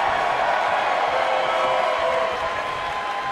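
A wrestling arena crowd roars and applauds loudly in a continuous wash of noise during a tag-team match, easing slightly toward the end.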